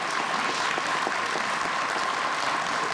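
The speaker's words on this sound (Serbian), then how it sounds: "Hajde ih pozdravimo jednom aplauzom." An indoor crowd applauds staff members in vests, a dense, even wash of many hands clapping that holds steady at full volume from start to finish, with no voices over it.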